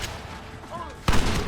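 Gunfire in the Western video game Red Dead Redemption, with a steady mix of distant shots under a shouting voice, then one loud close gunshot bursting near the end.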